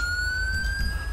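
A police car siren in the video game GTA V wails steadily and loudly through the whole moment, a sustained tone over low engine rumble, with no talking.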